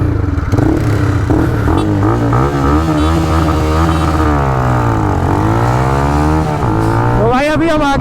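Modified TVS Raider 125 motorcycles roar through a drag race, engines climbing and shifting in rising, falling sweeps, loud and close with heavy wind rush, a voice speaking faintly underneath.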